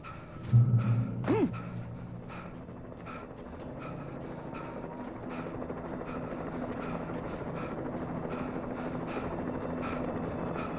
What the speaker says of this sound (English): See the helicopter, but I hear it.